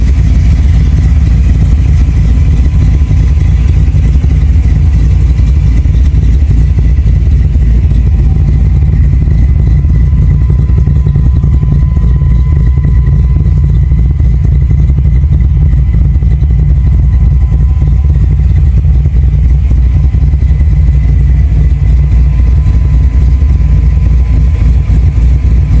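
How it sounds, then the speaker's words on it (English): A car with a 300-plus horsepower engine runs steadily and loudly close by, its deep low rumble continuous throughout with mild revving swells and no talking. "he did give me some sound bites so we can hear how this bad boy sounds with that 300 plus horsepower engine that he's got in it."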